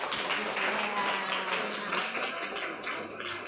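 Audience applause at a school orientation session on junior high rules, a dense steady patter of clapping from a room of people lasting the whole stretch, with chatter mixed in underneath.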